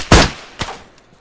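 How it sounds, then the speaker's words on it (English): Two loud gunshots from DayZ Standalone, close and sharp, half a second apart, each trailing into a short reverberant decay with no talking. "I'm getting shot at!"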